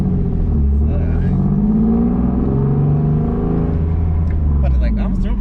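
A single-turbo Nissan 370Z pulls hard on low boost with traction control off, its engine a steady, loud, low drone heard from inside the cabin with voices talking over it.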